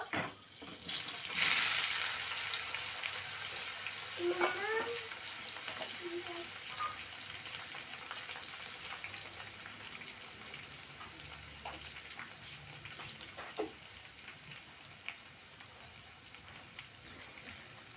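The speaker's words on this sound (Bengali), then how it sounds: "এখন আমি দিয়ে দিচ্ছি কপিগুলো" Kohlrabi tossed into a pan of frying garlic sizzles steadily, with a loud burst early on and scattered clinks and scrapes of stirring through the rest, while someone talks intermittently.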